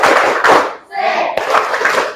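Children in a classroom clap their hands in brisk rhythmic bursts, a short gap splitting two clusters of close, sharp claps.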